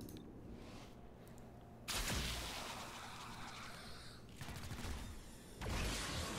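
Gunfire from the turn-based tactical video game Chimera Squad, with sudden loud bursts of shots and impacts separated by quieter gaps, set against game background sound and no talking.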